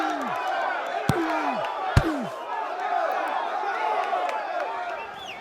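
Indistinct crowd murmur and cheering underneath an OUYA video game demo, with whooshing swept tones and two sharp slam-like hits, continuous and moderately loud.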